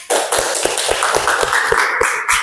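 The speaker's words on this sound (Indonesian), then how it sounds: "Tepuk tangan dulu untuk kita." Clapping from a small group during an accounting lesson, close and fairly loud. Distinct rhythmic claps sound roughly every quarter second over a busy background.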